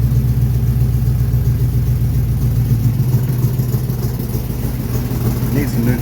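A Chevrolet S-10 pickup engine, fuel pump wired to a computer, runs loud and close after a key start, a steady low rumble with slight revving that eases off slightly near the end, and no voices over it.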